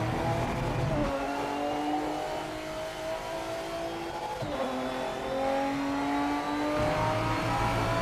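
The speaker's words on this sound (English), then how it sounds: "But this car sounds absolutely great." Race car engine in a PC racing game, revving steadily with clear harmonic whine, dropping briefly near one and seven seconds as gears shift, then climbing again; continuous and close, with no talking.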